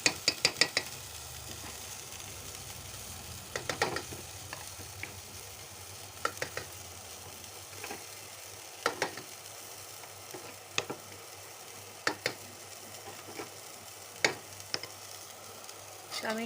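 Mustard paste stirred into boiling water in a pan for Bengali rui fish curry, a low simmering hiss with intermittent sharp scraping and clinking of a spoon against the pot, no voices.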